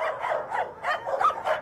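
Cartoon dogs bark and yip in an airplane cargo hold, a quick run of about six close, loud yaps in an uneven rhythm with no talk over them.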